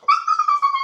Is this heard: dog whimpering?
yes